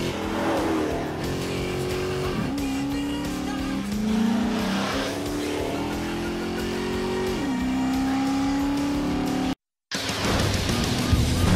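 A 470-horsepower Dodge Charger Hemi V8 revs hard in repeated rising surges, loud and close, with a brief dropout before the engine roars back, and a little talk mixed in.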